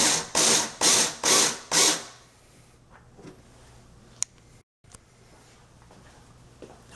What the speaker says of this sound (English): I'm going to go ahead and tighten it down.